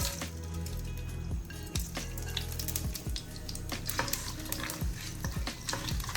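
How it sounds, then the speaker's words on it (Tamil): Mustard seeds, cloves, cardamom, cinnamon, bay leaf and other whole spices sizzle in hot oil for a crab gravy, with steady frying crackle, repeated sharp pops and stirring scrapes close by. "நல்லா பொரியட்டும், இந்த வாசம் வரட்டும்."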